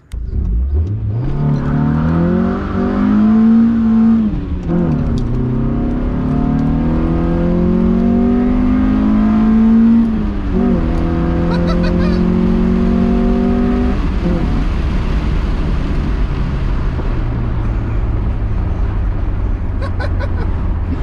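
A Honda CRX engine revs hard and climbs through repeated long pulls, held loud and close from inside the car, with tire burnout noise underneath.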